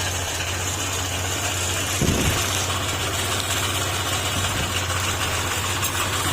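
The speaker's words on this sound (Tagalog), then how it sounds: "narinig niyo yung tunog sa makina" A Honda ADV160 motorcycle engine idles steadily with a low, even rumble and a slight knocking beat, plus a brief louder burst partway through.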